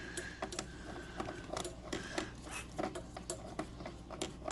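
An air filter being screwed onto a Milwaukee M18 Fuel air compressor gives a near, quiet run of small plastic clicks and scraping ticks in an uneven rhythm, with no talking.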